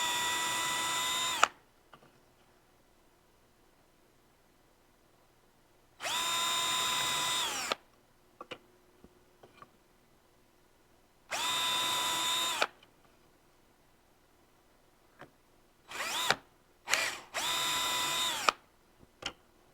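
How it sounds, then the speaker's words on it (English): A power drill whirs in several short bursts, drilling pilot holes in wood, each a second or two long with quiet pauses and small clicks between them, close by. "we're just going to come through quickly and drill our pilot holes"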